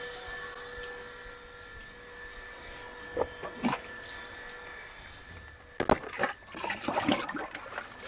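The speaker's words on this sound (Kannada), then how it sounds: "ಸ್ವಲ್ಪ ಗಿಡಗಳಿಗೆಲ್ಲ ನೀರು ಹಾಕ್ಬಿಡೋಣ್ರಿ" Water splashes and trickles outdoors in uneven bursts as plants are watered, filled from a drum, with louder gushes toward the end.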